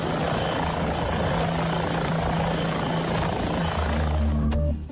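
Police helicopter flying overhead, a steady loud rotor and engine drone with low tonal hum throughout, holding level for nearly five seconds before cutting off abruptly at the end.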